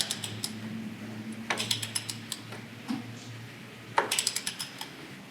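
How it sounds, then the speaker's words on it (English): A hand ratchet tightens the wheel axle on a Honda Fury motorcycle in two bursts of rapid, close mechanical clicking, with a brief pause between them and a few scattered clicks in the gap. "Then tighten the axle."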